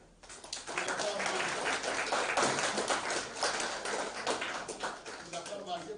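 An audience applauds at a presentation event, with dense, sustained clapping that swells in quickly and carries on under a voice speaking French.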